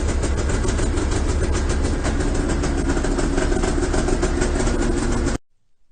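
A Ski-Doo snowmobile engine runs steadily after a pull start with heavy choke, a loud continuous mid-pitched drone that holds unchanged until it cuts off abruptly near the end, with no talking.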